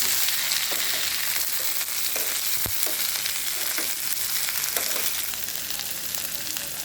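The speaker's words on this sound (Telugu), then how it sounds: "ముందుగా కట్ చేసి పెట్టుకున్న వంకాయలు అయితే వేసుకొని బాగా వేగనించుకోవాలి." Eggplant pieces frying in oil with onions, a constant loud sizzle with a few soft stirring knocks scattered through.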